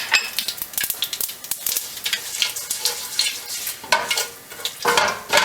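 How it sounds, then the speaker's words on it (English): Curry leaves dropped into hot oil with popping mustard seeds for a country-style Kerala chicken, crackling in bright, irregular sputters that flare up loudly near the end, with no talking. "with the mustard seeds popping, in go our curry leaves"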